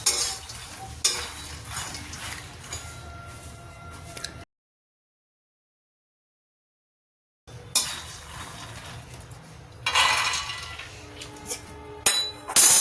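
Fox nuts (makhana) are stirred while dry-roasting in a hot kadhai with barely any ghee, making close scraping and clinking of a spoon against the metal, with a silent gap partway through before the stirring resumes.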